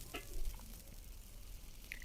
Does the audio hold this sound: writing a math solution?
no